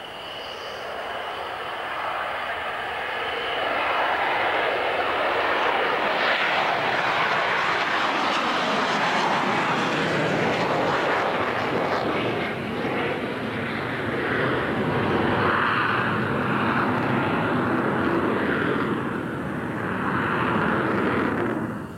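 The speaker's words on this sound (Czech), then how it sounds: "představování Václava Vaška a letoun MiG-29 je zbytečné" A Czech Air Force MiG-29A fighter jet roars overhead at an air show, a loud, rushing engine noise that swells and holds steady for a long stretch.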